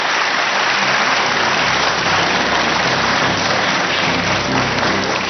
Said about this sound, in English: Ladies and gentlemen, a round of applause for our running mates